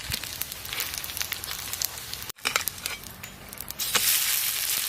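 Chicken burger patty frying in hot oil at home, a steady crackling sizzle with scattered pops, briefly cut off midway and then returning louder and hissier toward the end.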